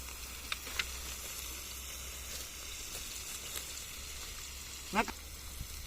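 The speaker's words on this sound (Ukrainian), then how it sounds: "Нам зараз поки треба, щоб вона прожарювалася." Young potatoes fry in a pan with a steady low sizzle, punctuated by a few soft stirring clicks and one louder scrape near the end.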